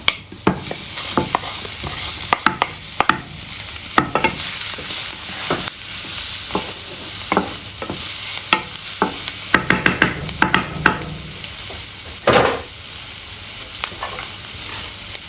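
Shallots frying in butter and garlic, a loud continuous sizzle close by, punctuated by repeated sharp scrapes and taps of a utensil stirring the pan throughout.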